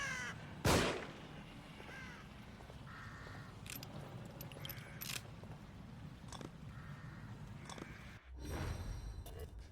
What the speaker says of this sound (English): And there's another crow on top of those stairs.